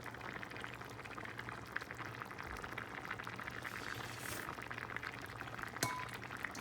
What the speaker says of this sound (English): it's still bubbling and sizzling